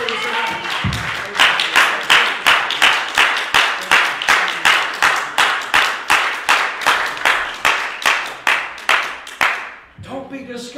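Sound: congregation clapping hands

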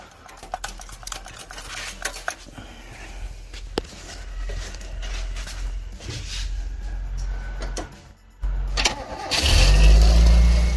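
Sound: 1978 Toyota Corolla engine starting

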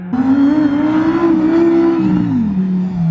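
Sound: Lamborghini Huracán engine revving as it accelerates

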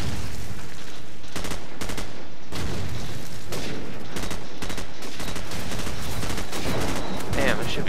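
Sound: M16 rifle gunfire in the video game Call of Duty 4

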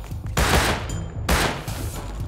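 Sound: gunfire from a Tommy gun in the video game Rust

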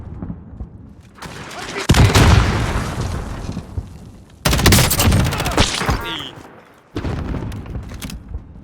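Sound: RPG explosion in video game Call of Duty Warzone

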